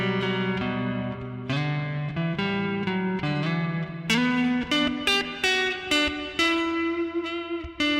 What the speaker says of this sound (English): Just hit the reverb.